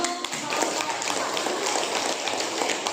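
Students in a high school classroom applaud with dense, continuous clapping that holds at a steady, moderate loudness from start to finish.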